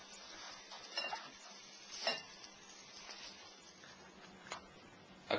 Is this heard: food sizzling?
yes